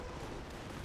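Mortar fire in the World War II strategy game Company of Heroes: a brief, dense barrage of rumbling blasts that fills the whole moment without a break.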